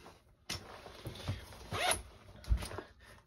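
Zippers on the back pocket of a Vertx waist pack are pulled in several short, close rasping zips, spaced out and fairly quiet, with faint handling rustle between them.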